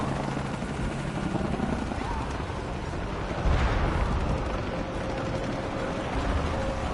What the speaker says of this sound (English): More helicopters.